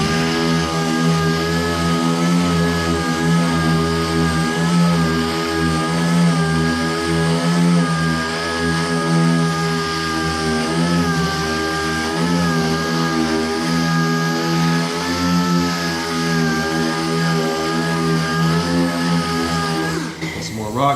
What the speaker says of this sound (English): See, I'm holding the sander flat.